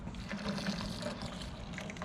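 Beer, 24 ounces of it, pours steadily into a crab steaming pot, a continuous close trickling and splashing with no pause.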